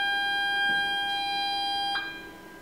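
A damaged car reversing (parking) sensor, wired back in after a torn-off bumper, emits a steady high electronic tone that cuts off abruptly partway through, leaving faint background hiss.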